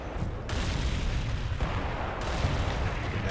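Artillery barrage in the Cold War wargame Combat Mission Cold War during a motor rifle battalion attack, a continuous dense rumble of shelling with repeated booms blending into a steady roar throughout.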